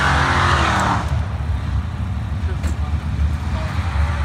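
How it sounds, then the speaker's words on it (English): A 1967–68 Camaro and a Dodge run at a drag strip night in Kinston, NC, with a loud roaring engine rush at the start that fades into a lower, rumbling drone as the cars pull away, with crowd noise and voices around. "This is a 67 to 68 Camaro versus a Dodge."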